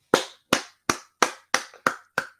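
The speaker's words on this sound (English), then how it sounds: "If there were more people around me, you'd hear more than just me clapping." One person claps alone, seven crisp, evenly spaced hand claps close by with nothing else around them.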